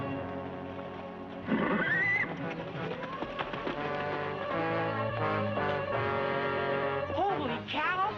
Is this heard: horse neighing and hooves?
yes